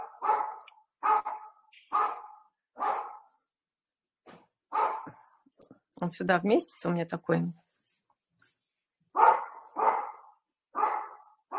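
A dog barks in a slow series of single woofs, with a person talking briefly in the middle and the barking resuming afterward.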